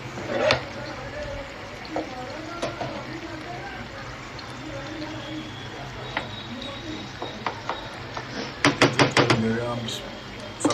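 A masher pressing roasted eggplant, giving soft, scattered taps and knocks that gather into a quick cluster near the end, faint under a person talking.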